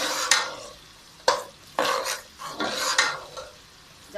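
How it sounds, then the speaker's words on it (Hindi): Onions sizzling in a pan for beef curry (baalti gosht), stirred with a utensil in several scraping strokes that break up a steady frying hiss, close up with no talking. "तो हमारा प्याज यहाँ पर अच्छे तरीके से भुन गया है।"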